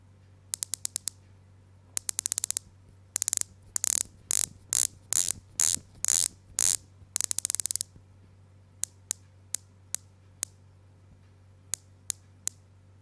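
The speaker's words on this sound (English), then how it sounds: "With smooth and soft clicks but consistent and just right amount of resistance and precision, it is a joy to use, both in tactile feel and sound." The bezel of a Ginault Silent Service watch clicks as it rotates, first in quick bursts of many rapid ratcheting clicks, then in slow, evenly spaced single clicks, crisp and close against a quiet background.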